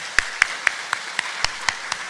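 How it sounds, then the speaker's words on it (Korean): Church congregation applauding during a Sunday worship service, heard as a series of distinct, evenly spaced claps at moderate loudness with no talking over them. "서로를 위해서 격려하는 박수를 한번 보내주시기 바랍니다"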